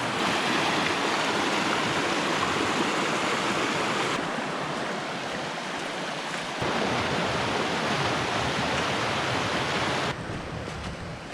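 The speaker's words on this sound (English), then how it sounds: "just that stretch with the sound of the water, the force that it's moving at" River water rushes over gentle rapids in Cornish woods, a steady broadband roar close by that continues unbroken, shifting slightly in level as the listening position changes.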